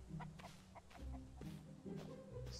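A chicken in the Mist Survival video game clucks in short repeated bursts, close and fairly soft, with no talking over it.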